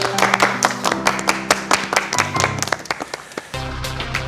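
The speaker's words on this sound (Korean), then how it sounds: "큰 격려의 박수 부탁드립니다." An audience at a Korean architecture quiz show claps for an eliminated contestant, a run of sharp, separate claps over a low musical tone that shifts partway through.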